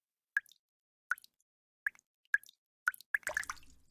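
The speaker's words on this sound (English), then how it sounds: "Water's coming from the ceiling!" Water drips from a bunker ceiling in the video game NIKKE, about six sparse, close plops at irregular intervals, ending in a quick cluster of splashes in quiet surroundings.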